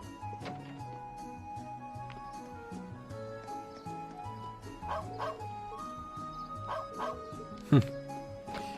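Barking dog in the video game Trails of Cold Steel, short yips and bow-wows over steady game music, with a sharp louder burst near the end.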